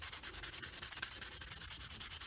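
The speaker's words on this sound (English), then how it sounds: "I'm just going to sand off both of these and then do the assembly" Hand sanding of reed and bamboo float parts for waggler floats, a steady rhythmic back-and-forth abrasive rasp with even strokes, close up and alone.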